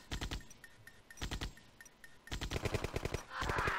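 Units in Command & Conquer open fire in short bursts of rapid machine-gun shots, separated by brief pauses, then a denser barrage of overlapping shots building toward the end.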